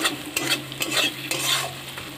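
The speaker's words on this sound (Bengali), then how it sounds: "আগে থেকে যে মশলার পেস্টটা বানিয়ে রেখেছিলাম এবার দিয়ে দেব। ভালোভাবে কষিয়ে নেব।" Spice paste frying in a pan as it is stirred and cooked down for a spicy Bengali chicken dish, with rhythmic scraping strokes over a constant close sizzle; no speech.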